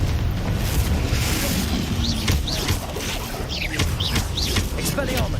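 Spells go off in combat in Hogwarts Legacy, with the Confringo fire blast booming over dense, noisy crashes and whooshing magical effects. Impacts and sweeping tones keep coming throughout, and a voice can be heard in the mix.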